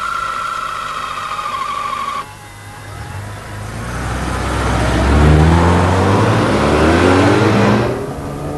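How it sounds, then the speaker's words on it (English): A 1986 Mazda RX7 rotary engine revs up, its loud engine and exhaust note rising in pitch with climbing harmonics, dropping back briefly, then climbing again before easing off near the end. "The rotary engine revs extremely freely and has quite a nice sport and exhaust note."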